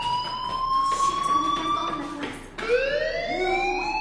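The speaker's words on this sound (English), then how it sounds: "Hey, do you hear that fire alarm?" School fire alarm in the Life is Strange video game, a loud wailing siren that rises in pitch, breaks off, then starts climbing again, filling the space.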